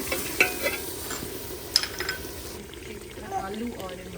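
Green chilies fry in a pan after a little water is poured in, giving a close, steady sizzle with scraping stirs and clinks from a utensil, while a person talks over it.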